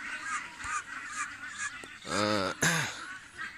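Ducks on a small duck-rearing farm give rough, nasal honking quacks, softer at first, then two loud, close calls near the end, with no talk over them.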